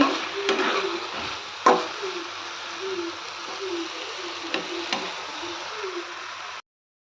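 Onion, eggplant and potato curry fries and gets stirred in a pan, a soft sizzle broken by scraping stir strokes and a few sharp ticks and clinks.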